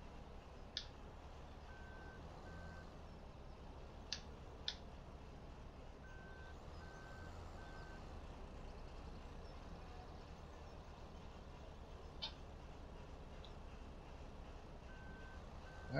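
Reversing beeps from a truck in Farming Simulator 17 on the Oregon Springs map come in short, faint bursts of repeated tones over a steady low engine rumble, with a few sharp clicks in between.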